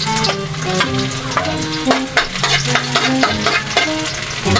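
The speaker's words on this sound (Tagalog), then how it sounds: "Konting matika. Igisa natin." Garlic sautéing in hot oil in a pan for beef skin and tendon kilawin, a steady, close sizzle broken by repeated stirring scrapes, with tonal background music running underneath.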